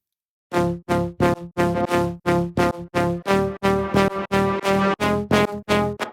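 A crispy synth lead plug sound, heavily post-processed, plays a steady rhythmic pattern of short, punchy repeated notes, loud and upfront with no other sounds.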